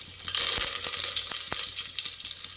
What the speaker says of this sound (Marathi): त्यानंतर आता हिरवी मिरची टाकून घेऊ